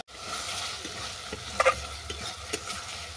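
Fried potatoes being stirred into a cooked spice masala in a pan, a quiet low sizzle with a few soft scraping and clinking taps from the spoon.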